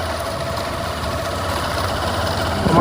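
A motorbike engine chugs steadily up close on an off-road ride, a low idling rumble with faint knocking that swells slightly toward the end.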